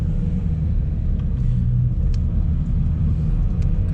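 Car driving along a street in severe frost around minus 37 degrees, with a steady low road and engine rumble heard from inside the cabin, continuous and moderately loud, with no talk.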